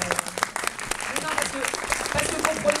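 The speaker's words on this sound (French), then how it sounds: "Qui est-ce qui applaudit?" Applause from the audience at a political debate in Antony, France: a burst of clapping, moderately loud and uneven, mixed with voices talking over it.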